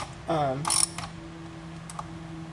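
A socket ratchet tightens the carburetor fasteners on a Craftsman chainsaw, giving a short burst of close, clicking mechanical ratcheting followed by a low steady hum.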